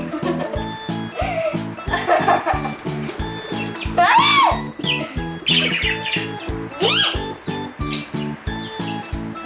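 A budgerigar chirps and warbles repeatedly and nearby, over a steady rhythmic mechanical thumping and occasional voices.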